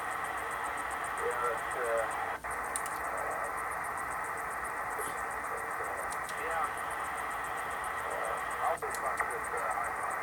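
Faint voice buried in a steady wash of radio hiss and static from a weak signal on a RadioShack DX-394 receiver with DSP-40 noise filter, with occasional clicks and warbling tones breaking through.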